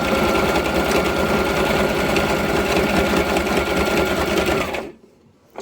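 A sewing machine stitches close up in a steady, fast, even whirring rhythm for several seconds, then stops abruptly into near silence.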